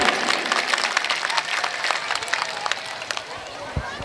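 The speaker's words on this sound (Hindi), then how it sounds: "एक बार जोरदार तालियां मधु भैया के लिए बजाइए।" Crowd at a political support rally in India applauding loudly and steadily, dense clapping throughout with a murmur of voices underneath.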